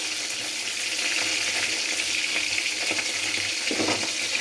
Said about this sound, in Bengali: আমার মাছটা ভাজা হয়ে গিয়েছে